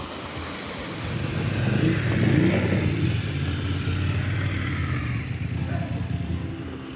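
BMW F750 GS and 850 GS adventure motorcycles ride on dirt trails in Andalusia, with a steady engine drone and heavy wind rush that swells slightly, then holds at a constant level throughout.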